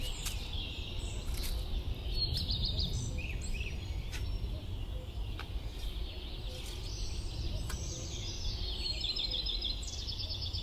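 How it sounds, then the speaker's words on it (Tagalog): Outdoors in a garden in Finland, faint bird calls chirp and warble over a steady low background rumble, with scattered sharp clicks and repeated high calls across the clip. "Narinig niyo yung ibon?"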